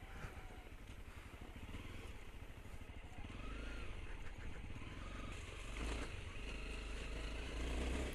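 A 125 XR motorcycle rides a motocross track on a hot summer day, its engine a steady rumbling drone that rises as it accelerates, with wind buffeting and some clatter, close and continuous.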